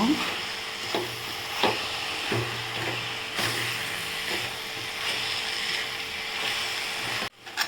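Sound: sautéing siru keerai greens in a pan for chutney

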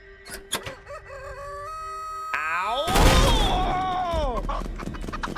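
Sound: chickens clucking and crowing in a video game

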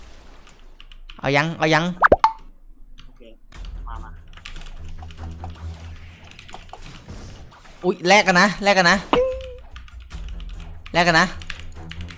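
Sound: keyboard key presses

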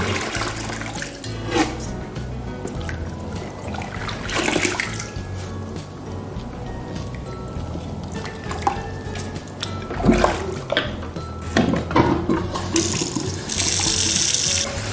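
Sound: rinsing vegetables under running tap water

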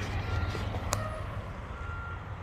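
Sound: truck reversing beeps while backing into a spot

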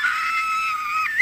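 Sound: scream

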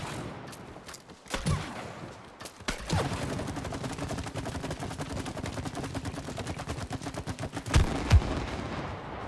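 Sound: explosions in the video game It Takes Two

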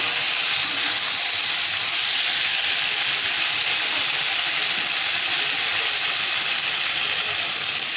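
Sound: water poured into a hot pan of sautéed curry

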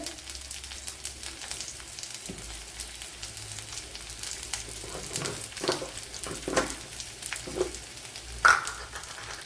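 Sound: sliced onion frying in a pan for green gram curry

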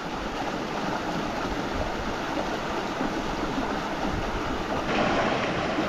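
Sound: river stream flowing

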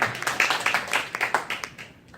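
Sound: congregation applause

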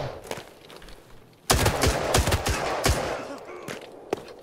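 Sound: gunfire in the video game Arena Breakout: Infinite

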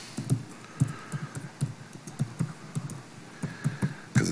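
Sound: typing a password on a computer keyboard

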